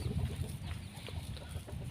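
Free-ranging farmyard chickens clucking softly while foraging at a rural Thai farm, a few faint scattered clucks over quiet background.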